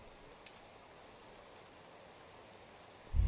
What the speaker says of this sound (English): We're drenched in rain,